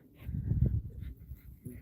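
A dog that dislikes water whimpers softly in a few short nasal whines and breathy pants, close by and fairly quiet, with no one speaking.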